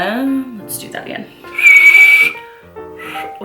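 A clear, high whistle holds for under a second amid casual talking voices and other scattered sounds.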